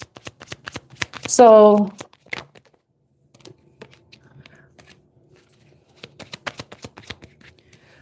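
Tarot cards are shuffled in quick crisp riffles and flutters through the whole stretch, close and clear, with a loud voice breaking in briefly near the start and soft speech returning toward the end.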